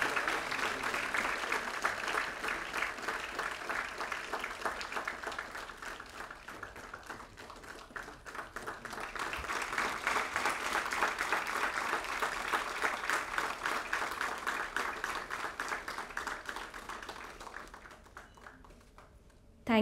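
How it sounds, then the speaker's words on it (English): Sustained audience applause at a university foundation day book release, a steady wash of many hands clapping for about seventeen seconds, swelling midway and then fading out near the end. "Can the applaud be louder and continue?"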